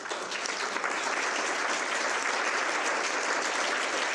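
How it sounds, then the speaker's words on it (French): Sustained audience applause fills a parliamentary conference hall, dense steady clapping from a large crowd, loud and continuous throughout without pause. "Vos applaudissements donnent évidemment la réponse."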